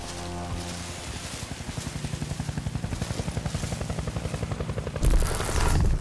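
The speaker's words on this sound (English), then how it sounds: "Here, helicopter." A helicopter in the video game Crysis 3 gives a rhythmic, pulsing rotor thump that grows steadily and then swells louder near the end, heard alone without talk.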